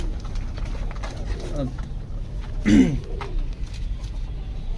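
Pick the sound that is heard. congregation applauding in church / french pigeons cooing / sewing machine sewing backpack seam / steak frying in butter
french pigeons cooing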